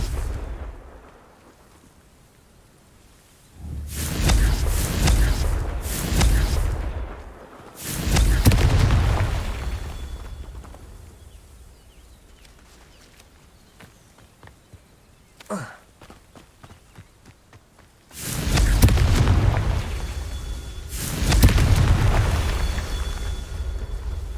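Confringo, an explosive spell in Hogwarts Legacy, bursts in several loud, booming blasts that come in separate clusters. Quieter gaps with footsteps and small thuds fall between the blasts.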